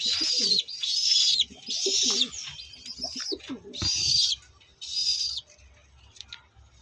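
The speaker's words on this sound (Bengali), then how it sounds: "এইখানে দেখুন একটা আন্ধ্রা পায়রার বাচ্চা আছে" Soft, throaty cooing from Andhra pigeons repeats in bursts, layered with high wheezy squeals from pigeon chicks, close by and fairly loud.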